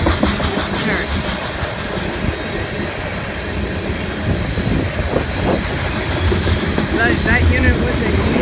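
Loaded BNSF coal train hauled by an EMD SD70ACe locomotive rolls past nearby, a steady loud rumble of wagons with rail clatter and brief wheel squeal throughout, continuous for the whole stretch.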